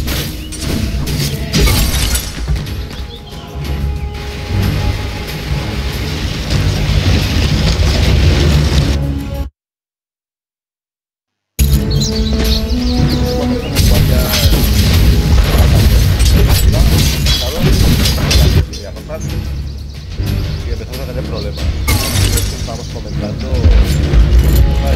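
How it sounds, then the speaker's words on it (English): Dota tower under attack: continuous loud crashes, shattering hits, booms and mechanical clanks with bursts of pops, broken by a short total silence midway, with talking mixed in. "Dire's middle tower is under attack."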